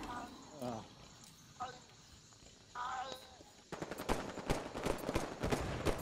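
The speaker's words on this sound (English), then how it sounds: "I'm using the bolt shot to get a bolt shot commendation." Bolt Shot weapon firing in Halo 5 multiplayer, rapid bursts of sharp crackling shots in the latter half, fairly quiet, with a voice talking over the earlier part.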